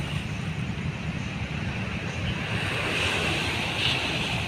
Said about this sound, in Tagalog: may alon-alon pa siya